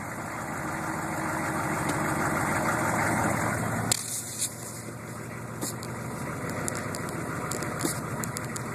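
A 1998 Chevrolet K2500 pickup truck engine idles steadily, then a soft mechanical clunk marks it shifting into reverse, followed by a few light clicks over the continuing low rumble.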